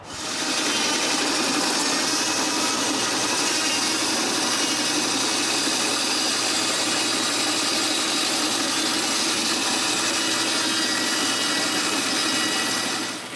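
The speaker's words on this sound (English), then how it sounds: "We even cut the vertical post with the bandsaw." A bandsaw runs steadily while cutting through a wooden vertical post for a firewood carport, a loud continuous motor and blade drone that holds level from start to finish with no talk.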